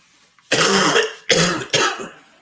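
A man gives three harsh, close coughs in a row, the first longest and the next two shorter, inside a vehicle while driving between job sites.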